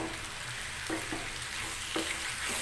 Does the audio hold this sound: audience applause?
no